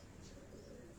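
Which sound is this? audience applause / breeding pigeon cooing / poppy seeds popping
breeding pigeon cooing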